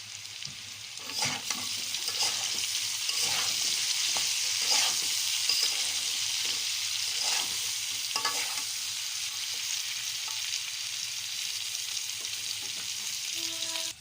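Pigeon meat frying in a pan with onion, garlic and green chili, a steady loud sizzle with occasional stirring scrapes throughout.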